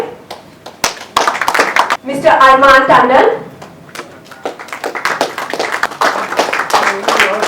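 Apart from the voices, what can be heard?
applause at press conference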